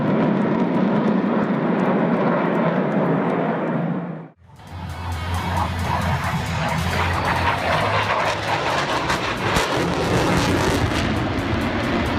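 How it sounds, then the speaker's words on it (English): An F-22 Raptor fighter jet roars loud and steady, cuts out briefly, then returns as a rough, broadband engine rumble with crackle, close and dominant throughout. "A spin is usually a critical flight condition. but not for the Raptor fighter."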